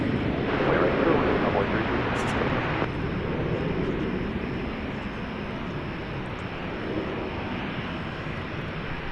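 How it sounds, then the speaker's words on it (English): An Airbus A321, American flight to Los Cabos, takes off at DFW Airport: a steady, broadband jet roar that is loudest in the first few seconds, then holds as a slightly softer, sustained rumble. "Los Cabos in Mexico is now off and running. It's an Airbus A321."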